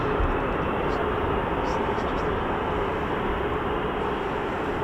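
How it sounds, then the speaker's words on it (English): An F-15 fighter jet rolls out for takeoff at an air force base during a mass launch, a loud, steady broadband jet roar filling the whole clip without a break, with people talking over it. "That sounds like an F-15 as well on the move."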